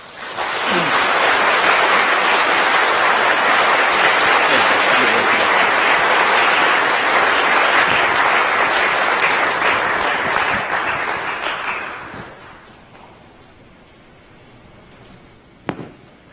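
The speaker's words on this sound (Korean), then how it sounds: "따뜻한 축하와 환영의 박수 부탁드리겠습니다." A church congregation applauds during a Sunday service, a loud, dense wash of clapping that holds steady for about twelve seconds, then dies away to quiet room tone broken by one sharp knock.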